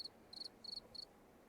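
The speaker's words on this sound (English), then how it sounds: "Does anyone else hear crickets?" Crickets chirping in four short, evenly spaced trills, faint and thin against a quiet background.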